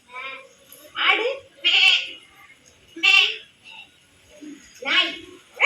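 A human voice imitates a goat's bleat in a series of wavering, nasal calls, about five bursts with short gaps, close and loud.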